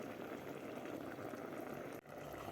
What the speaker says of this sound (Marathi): मिडियम गॅस ठेवून आपल्याला हे दोन ते तीन मिनिट हे शेंगोळे शिजवून घ्यायचे आहेत